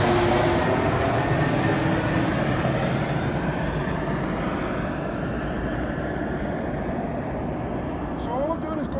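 An airplane flying overhead drones as a loud, continuous engine roar that slowly fades a little over several seconds, with faint rubbing sounds near the end.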